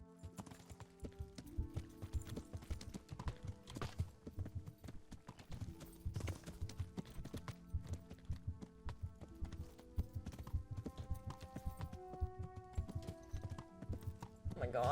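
Repeated hollow clip-clop of a horse's hooves plodding along a road in the medieval game Kingdom Come: Deliverance, steady and mid-distance beneath a layered game soundtrack with occasional talk.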